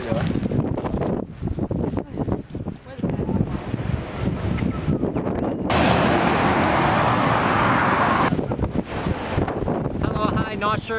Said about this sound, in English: Not sure if you can hear me because this is really windy